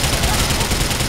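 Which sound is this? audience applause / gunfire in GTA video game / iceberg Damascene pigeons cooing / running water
gunfire in GTA video game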